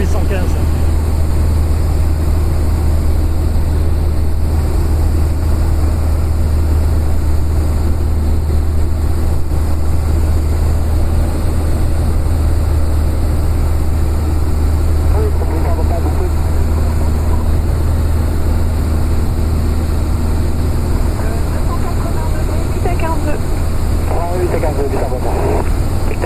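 Light propeller airplane in descent toward landing, its engine a loud, steady drone filling the cabin throughout, with a voice speaking over it.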